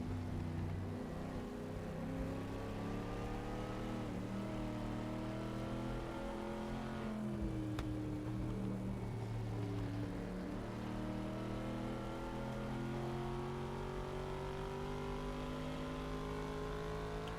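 A race car engine in the GTC Legends sim racing game revs and climbs through the gears, its pitch rising and falling in smooth sweeps, quiet and continuous with no voices.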